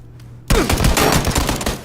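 A Vector gun set to single fire in the game PUBG fires a quick, loud, close run of shots that starts abruptly after a brief quiet moment.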